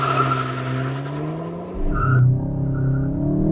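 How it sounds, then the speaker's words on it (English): Volkswagen Golf GTI launching from a standstill under launch control, full brake and full power, its engine note holding steady then surging into a loud, rising acceleration roar midway. "Let's launch it, and when you launch it with your full brake and full power as well"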